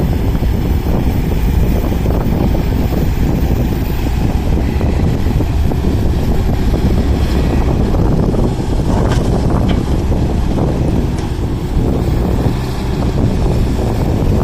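Strong wind roars across the microphone at an excavator digging site, a loud, constant rushing buffet with no clear break.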